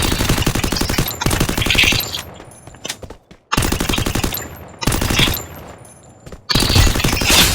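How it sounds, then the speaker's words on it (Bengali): Rapid automatic gunfire from a UMP submachine gun in the Free Fire video game, three loud sustained bursts of roughly a second or more each, separated by short quiet gaps with faint tails. "এখন ইএমপির সাউন্ডটা দেখো একবারে"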